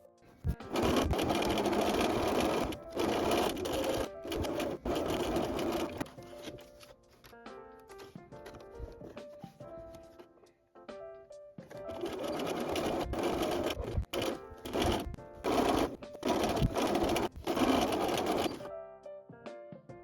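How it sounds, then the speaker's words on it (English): A sewing machine runs in steady rapid stitching bursts along the edges of a fabric tote bag, stopping for a few seconds midway before resuming, close and alone. "Sew around the edges with a 1 cm seam allowance, leaving that opening unsewn."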